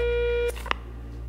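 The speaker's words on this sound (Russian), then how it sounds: "Звонок." A phone ringing at the start of a call to a domestic violence help centre: one sustained electronic ring tone for half a second, then cut off, followed by a brief click and a quiet line.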